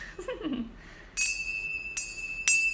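Sound healing chimes are struck three times, each bright metallic ring sustaining and shimmering close by, following a soft murmur at the start.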